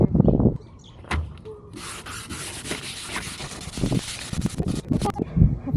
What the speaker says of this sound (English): I think I'm done sanding.